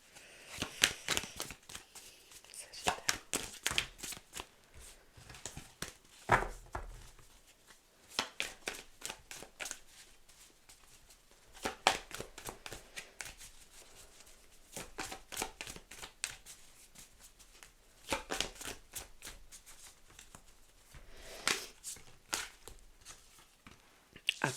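Tarot cards being shuffled by hand in repeated quick riffling bursts, crisp papery flicks and slaps with brief pauses between handfuls, close and fairly quiet, with no talking.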